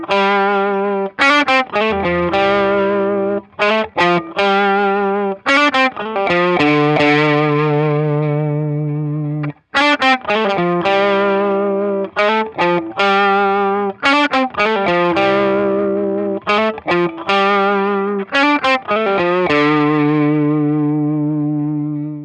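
Distorted electric guitar through a Laney amp, close-miked with an SM57 and an off-axis Perception 420, plays loud sustained chords and riffs with short pauses, heard alone for about twenty seconds.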